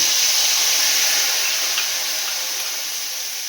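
Spice paste hitting hot oil gives a loud, steady broadband sizzle that starts strong and eases slightly as it settles, with no voices over it.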